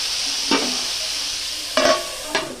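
Beans and vegetables frying in a wok crackle with a steady close sizzle, broken by three scraping stirs of a spatula.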